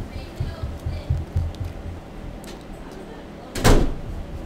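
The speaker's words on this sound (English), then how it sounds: "Close that door!" A door is shut with a single sharp, loud bang near the end, after softer household thumps and voices.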